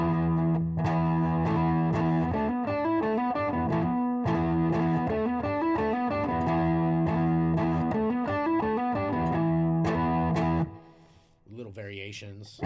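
Distorted electric guitar plays rhythmic power chords in a riff, loud and close with chugging repeated strums, then cuts off briefly near the end before a strummed chord rings again.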